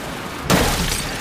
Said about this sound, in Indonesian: Kemudian Gina memecahkan kaca belakang untuk menyelamatkan Martin.